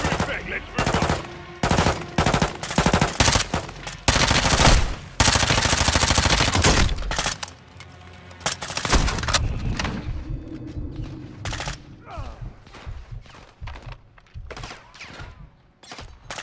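Heavy automatic and single-shot gunfire in the Call of Duty: Modern Warfare II campaign, loud sustained bursts up close, then thinning into scattered sharp shots with a low rumble beneath.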